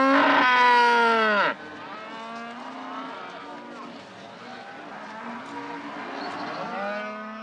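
A cow in the Dutch countryside gives one loud, drawn-out moo, followed by quieter lowing and a low background murmur of cattle.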